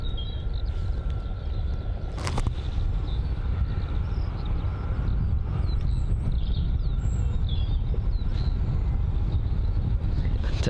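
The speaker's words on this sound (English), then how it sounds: "the wind is blowing quite a bit" Wind blows steadily across an open airfield at Bristol Airport, a constant broadband rush with faint chirps scattered above it and a brief louder gust partway through.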